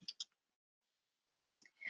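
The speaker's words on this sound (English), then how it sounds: "then you can click this button" A few quick mouse clicks on a software button, sharp and close, followed by a pause and a faint click or rustle at the end.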